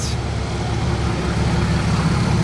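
A Porsche 964 Turbo from Kuwait idles on the Place du Casino in Monaco, a steady low rumble of the engine close by that continues without letting up.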